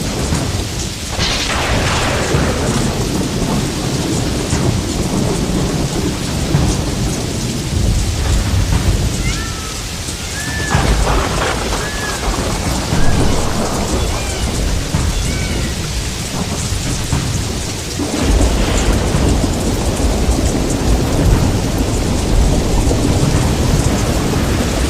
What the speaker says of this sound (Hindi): ऐसी बारिश जैसे आसमान फट गया हो